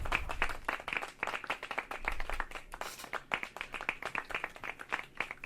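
A small group claps steadily and briskly, a dense patter of hand claps that keeps going without pause, fairly close.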